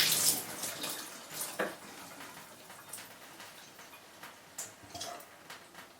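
A newly installed rainfall shower head runs water in a soft, steady patter with faint irregular drips and taps, quiet and close.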